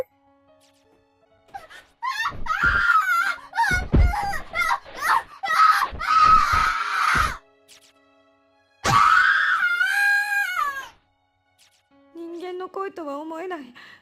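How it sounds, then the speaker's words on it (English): Loud, shrill screams and wails in rapid bursts from the PSP horror game Corpse Party, with short gaps of silence, ending in a higher, warbling cry. "I've never heard screaming like this before."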